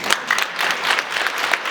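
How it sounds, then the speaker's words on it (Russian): Concert audience applause, a short burst of dense clapping from many hands in a hall, fairly loud and even throughout with no talk. "а я предлагаю начать с аплодисментов"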